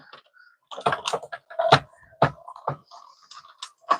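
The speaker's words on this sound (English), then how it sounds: "I'm just stepping aside to run this through my Stampin' Cut and Emboss machine." Card stock fed through a Stampin' Up! Cut and Emboss machine: close clicks, knocks and grinding crank-turning noises in irregular bursts after a short quiet start, with no talking over them.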